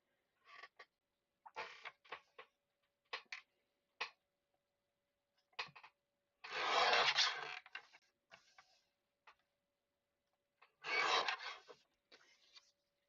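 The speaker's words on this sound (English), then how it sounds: "I'm just cutting this to get it out of this big piece of paper because I'm using this small guillotine." A small paper guillotine cuts through a sheet of craft paper: scattered light creaks and clicks from the blade mechanism, then two longer, louder slicing strokes, close up with no talking.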